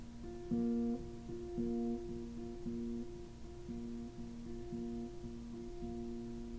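A soft acoustic guitar picked in a steady, repeating pattern, individual notes ringing clearly and quietly with no voices.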